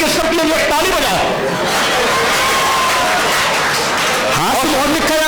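An audience at a Hindi comic poetry gathering in Moradabad bursts into loud, sustained clapping and cheering, a dense crowd roar that fills the whole stretch, with voices mixed in.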